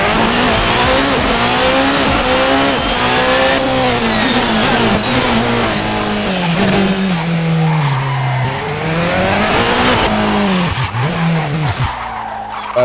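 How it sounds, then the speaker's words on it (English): Loud, continuous race car engine whine of a Race Sim Studio P91 in the Assetto Corsa video game, with rising and falling revs and tire screeches, steady and close with no talking. "like the sound when it's actually driving"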